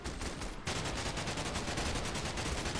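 Gunshots on a Minecraft military PvP server, first a muffled patch, then a fast, steady run of evenly spaced shots that fills the rest of the moment at moderate loudness.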